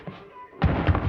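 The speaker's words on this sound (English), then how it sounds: "That wet thud, that's Armand saving me." A wet thud from a scene in the vampire TV drama, heard as a heavy low impact cluster that bursts in loud after a quiet, faintly murmuring stretch.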